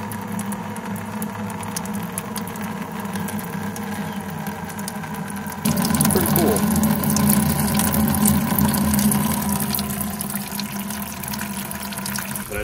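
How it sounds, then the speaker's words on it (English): Apple juice drips and trickles from a homemade cider press into a bucket, a continuous liquid splatter over a low mechanical hum that grows slightly louder partway through, no voices. "Dripping. It's working."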